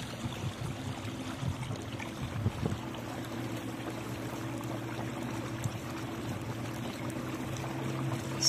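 An electric model boat driven by two motors cruises across open water, its steady motor hum and water wash continuing throughout with a brief louder swell near the start.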